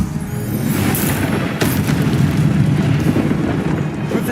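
A Confringo fire spell blast in Hogwarts Legacy, a booming, rumbling burst with a sharp crack partway through, followed by a sustained roar of game effects.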